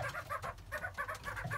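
New breeding birds clucking in repeated short bursts, a steady run of close, moderately loud fowl calls with no talk over them.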